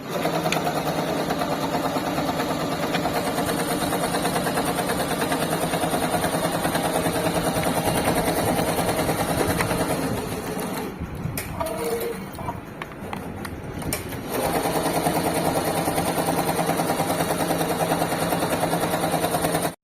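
A computer embroidery machine stitches a front neck design with a loud, steady rapid mechanical clatter that drops to a quieter pause midway before resuming its continuous hum.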